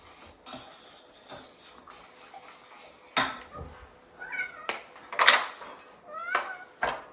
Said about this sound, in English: That's a audio cameo of Ermintrude, the cat.